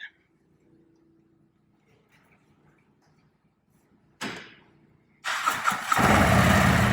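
A 2024 Harley-Davidson Road Glide motorcycle starting up: near silence, then a cranking burst, and a loud deep engine catching and settling into a steady, rumbling idle close by.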